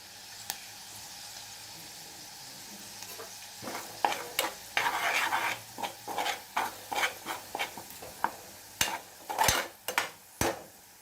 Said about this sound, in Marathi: आणि मसाला चांगला परतून घेऊ.